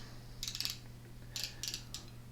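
A 1/2-inch drive ratchet fitted with a spark plug wrench on a push lawn mower, giving several short bursts of rapid clicking close up against a steady low hum.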